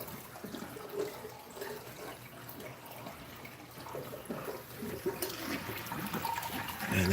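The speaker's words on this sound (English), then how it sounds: "Man, that drain sounds nasty." Water gurgling and churning down a home aquarium overflow drain, a steady noisy rush of flowing water with irregular gurgles that swells slightly louder near the end.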